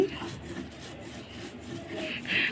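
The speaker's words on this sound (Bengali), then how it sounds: "শুটকিগুলো ভালোভাবে বেটে নিচ্ছি" Dried bamboo-leaf fish (shutki) ground into a paste for pumpkin-leaf fritters, making a continuous close rasping, rubbing scrape that grows rougher and louder toward the end.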